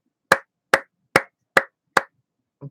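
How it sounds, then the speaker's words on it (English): Five slow, evenly spaced hand claps ring out sharply in quiet, followed by a softer thud at the end. "Let's do a slow clap."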